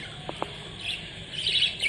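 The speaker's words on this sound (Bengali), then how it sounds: "আর এই দেখো কত সুন্দর একটা মেল পাখি আছে" Pet birds for sale at a seller's place chirp in quick, high tweets, with a couple of sharp clicks early on and brighter bursts of calls later, fairly close and without talk.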